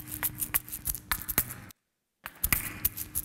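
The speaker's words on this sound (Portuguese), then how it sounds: "Isto é um instrumento africano." An African percussion instrument called an Azlatum is played with a run of sharp, irregular dry hits close by. The strikes break off into a brief silence before resuming at a similar quick pace.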